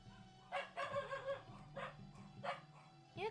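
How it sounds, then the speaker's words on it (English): Several dogs bark outdoors, a run of sharp bow-wow barks and yips that are moderately loud and slightly distant, with short pauses between bursts. "I don't know if you guys can hear my dogs."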